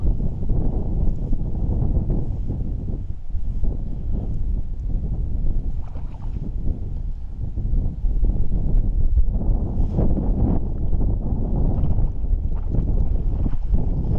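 Wind buffets the microphone outdoors during a day of trout fly fishing. It is a loud, continuous low rumble with gusty swells throughout and no talking.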